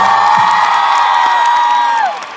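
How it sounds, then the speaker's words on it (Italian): A big arena crowd at a pop concert in Acireale cheers, whoops and claps loudly together, a sustained roar with shouted cries on top that tapers off at the end. "Quindi fate un applauso a queste persone"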